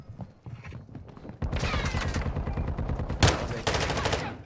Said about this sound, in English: We shoot at each other.